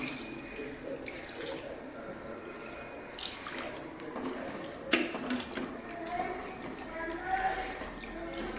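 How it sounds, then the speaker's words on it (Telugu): Quiet splashing and trickling of water being poured off while making chicken pulao, with a few clinks of a container, close by and fairly soft. "ఇట్లా వాటర్ తీసేసుకుంటున్నాను"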